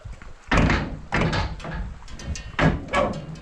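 Several heavy metallic thunks as the door of a 1977 Series 3 Land Rover barn find is pushed and shut, close and loud in a short irregular series.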